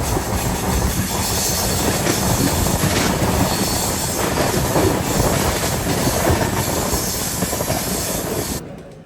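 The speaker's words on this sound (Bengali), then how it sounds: "উপরে গাড়ি চলে আর নিচে দিয়ে ট্রেন চলে।" A train passes close by near the Godavari bridge, its loud, continuous rumble and rattle of wheels on rails joined by hissing and squeal before the noise cuts off abruptly at the end.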